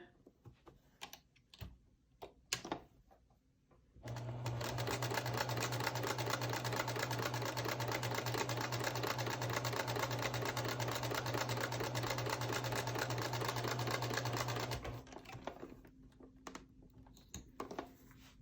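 A sewing machine stitches quilt block pieces together in one continuous run of about eleven seconds, a steady close mechanical whir with quieter fabric handling before and after and no talking.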